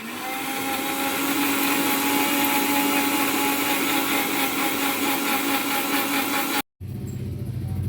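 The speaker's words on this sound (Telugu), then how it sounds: "మిక్సీ కొట్టిన తర్వాత ఇదిగో ఇలా వచ్చింది" A kitchen mixer grinder runs loudly and steadily while blending ingredients for a homemade pest-control solution, its whirring motor drone continuing for several seconds before cutting off abruptly, then briefly starting again.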